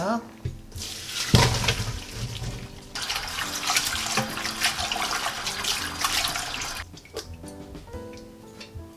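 Boiled lotus root and carrots rinsed under cold running water from a kitchen tap, a steady close splashing rush that starts and stops in bursts, with dripping and clattering in the pauses.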